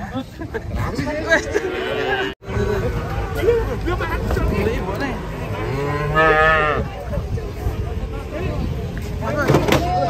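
Cattle unloading from a truck, several cows mooing loudly and repeatedly close by amid a crowd's busy chatter and shouting, with vehicle noise underneath.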